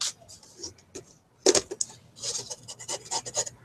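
Palette knife scraping and rubbing gesso across a wooden cigar box, short close rasping strokes in irregular bursts with quiet pauses between, no talking.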